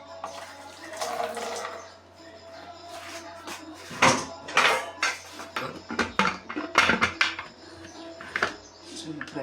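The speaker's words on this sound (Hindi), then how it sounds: "तो अब हम प्रेशर करेंगे बंद।" Metal clanks and clatters as a pressure cooker lid is fitted and closed over beef trotters, a series of close, uneven knocks and scrapes in a quiet kitchen with faint background hum.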